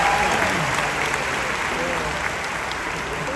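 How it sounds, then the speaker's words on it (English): Steady, dense applause from a comedy show audience in Bangalore fills the room at even loudness, with no break, and keeps going the whole way through. "give this lady a big round of applause"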